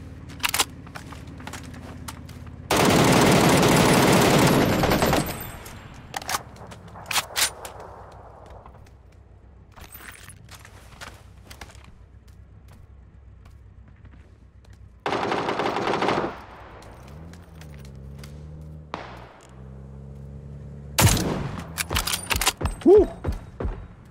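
Gunfire in PUBG comes as loud bursts of rapid automatic shots in separate clusters, with quieter single cracks and clicks between them and long quiet gaps.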